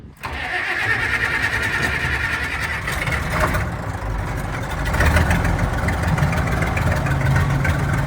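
A diesel tractor engine cranks and catches almost at once, then settles into a loud, steady, rumbling idle that runs close by for several seconds.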